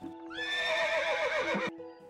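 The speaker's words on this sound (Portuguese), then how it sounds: "Ouviu um relincho," A single horse neigh, used as a sound effect in a children's audiobook story, rings out loud and close. The wavering whinny lasts about a second and a half and is heard alone.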